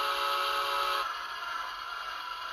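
A QSI DCC sound decoder in a model Pennsylvania PRR N1s 2-10-2 steam locomotive plays a steady hissing rush of boiler water fill, with a thin high tone that drops away partway through.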